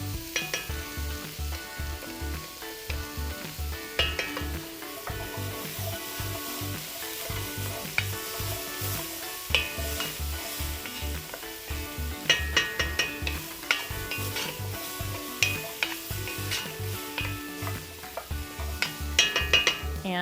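Tomato paste sizzles and fries in a pan while being stirred for beer braised short ribs, with a steady crackle and repeated scraping and clinking of a utensil against the pan, close and clear with no talking.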